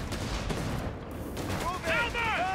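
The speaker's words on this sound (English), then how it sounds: "Maschinengewehr!" Dense battlefield noise from Company of Heroes 3 in the North Africa campaign near Gazala, June 1942, with rapid machine gun bursts crackling throughout and soldiers shouting over the din near the end.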